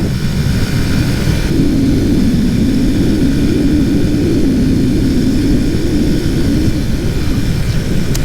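A vehicle engine runs steadily at about 50 to 55 mph on six-year-old fuel, a loud continuous low drone with road and wind roar and no pauses throughout.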